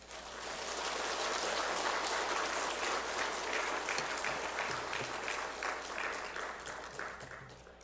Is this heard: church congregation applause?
yes